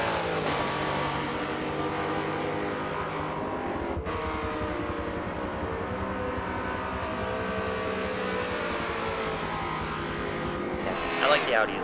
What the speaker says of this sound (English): The Chimajor going around the outside in his Aston Martin. Side by side into the braking zone.